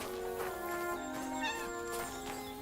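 A cat in Kingdom Come Deliverance II, a brief meow-like cry over a steady layer of game ambience and background tones.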